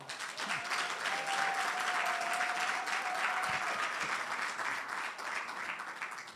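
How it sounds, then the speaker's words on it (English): Applause fills a church-hosted wealth summit hall, a steady wash of many hands clapping at moderate distance, with a faint sustained tone partway through. "Thank you for the applause."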